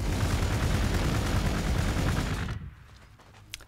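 Heavy gunfire aimed at Tech Priests in the strategy game Warhammer 40,000: Gladius, a dense, loud continuous barrage that cuts off after about two and a half seconds, leaving near silence with one faint click.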